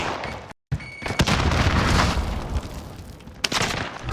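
A grenade bursts in the Call of Duty: Warzone video game, a loud boom rolling into dense gunfire-like crackle after a brief dropout, with further sharp hits near the end and no voices.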